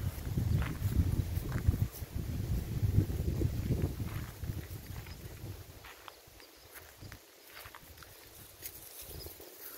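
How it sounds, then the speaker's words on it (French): Wind buffets and rumbles against the microphone for several seconds, then eases into a quieter, gusty hiss with occasional soft knocks. "On a beaucoup de vent."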